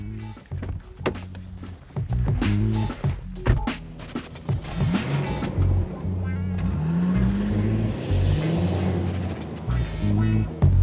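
Petrol-engined Audi Allroad estate car driven hard, engine note rising and falling through gear changes with rising revs and road roar, close and loud, with some talk early on.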